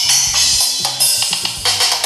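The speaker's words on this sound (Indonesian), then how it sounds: "Sebelum kita main, kita pukul semua set drumnya." Drums in the Real Drum app on a Tecno Pova Neo 2 phone are struck one after another across the kit, a quick run of loud, separate hits of cymbals and drums with no talk.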